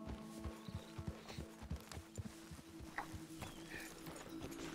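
Horse hooves clop in a steady, even walking rhythm in Red Dead Redemption II, with a low hum of game ambience beneath and faint sounds scattered over the top.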